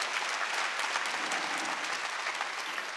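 A church congregation at a Sunday worship service claps in a steady, even wash of applause, moderately distant and unbroken, with no talking heard.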